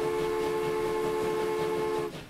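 An upgraded locomotive in the train-building game Transport Fever sounds a steady, tonal horn or whistle over a rolling rumble, holding for about two seconds before fading.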